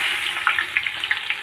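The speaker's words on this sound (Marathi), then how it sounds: "आता कांदो घालून घेऊया." Chopped onion dropped into hot oil in a village kitchen pan, giving a steady close sizzle with small crackling pops scattered through it, no voices.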